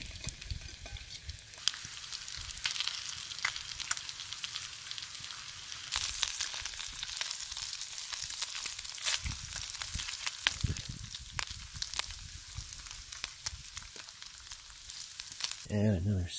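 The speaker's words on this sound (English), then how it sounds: "Add another stick to my fire" A wood campfire burning at a remote backcountry lake camp, giving off dense, steady crackling and popping close by for the whole stretch, with a louder clatter near the end as a stick is added.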